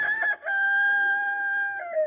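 A rooster crows once, loud and close, a long sustained call that drops in pitch at the end.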